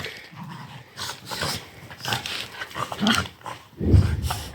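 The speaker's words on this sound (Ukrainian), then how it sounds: "Тут собаки." Dogs growl and bark in scattered, gruff bursts nearby, with a louder snarling outburst near the end.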